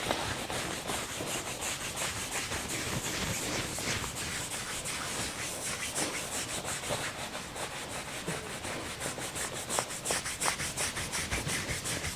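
Fingers rub over a head in a steady circular massage, a continuous close, dense scratchy friction on hair that stays even in level for the whole stretch, with no talking.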